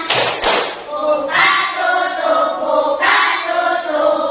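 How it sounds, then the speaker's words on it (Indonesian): Schoolchildren clap their hands in a class activity, a few sharp claps landing among voices singing and chanting together. "Bertepuk tangan."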